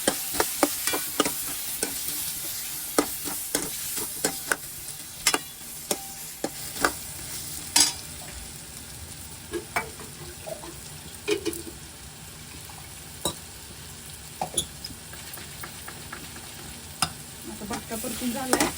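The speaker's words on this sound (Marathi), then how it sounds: "मी त्याच्यात बटाटे घालून घेते पहिले. बटाटा चांगला आपण परतून घेऊ." Potatoes frying in hot oil in a pan, a steady sizzle throughout with frequent scraping and clinking from stirring, close and moderately quiet.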